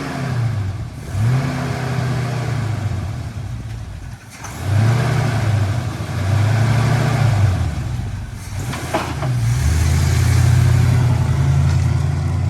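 A 1950 Plymouth Deluxe, off the road for 23 years, runs cold with a rough, uneven engine note, revving up and dropping several times, stumbling and nearly dying around the middle before picking back up, loud and close.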